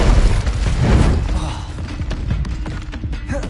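Confringo fire explosion spell cast in Hogwarts Legacy, a loud booming blast with a crackling, rumbling tail that fades over a few seconds amid other game effects.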